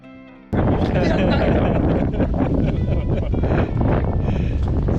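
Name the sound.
wind while sailing a yacht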